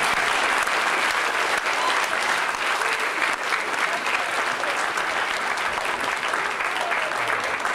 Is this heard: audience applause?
yes